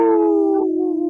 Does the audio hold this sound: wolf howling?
yes